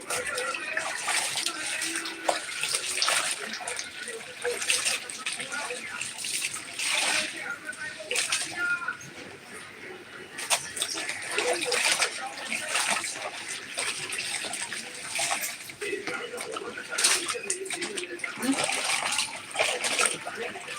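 Water splashes and trickles in a tub while clothes are washed by hand, with repeated pours and sloshing in bursts, fairly close and continuous, and someone talking throughout.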